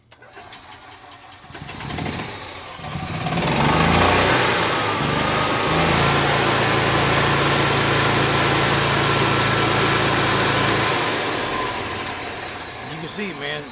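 EZGO gas golf cart engine cranks, catches and starts, then settles into a loud, steady idle nearby before easing off, with someone talking briefly at the start.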